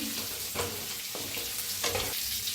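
Stuffed eggplant fries in oil with a loud, steady close sizzle, broken by a few stirring scrapes and bursts of spatter, no talking.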